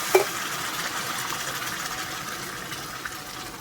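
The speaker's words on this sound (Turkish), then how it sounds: "Üç buçuk su bardağı soğuk suyumu ilave ettikten sonra hemen güzelce karıştırıyorum." Cold water poured onto rice in an AMC pot makes a steady, close, moderately loud hiss and rush, lasting throughout without a break.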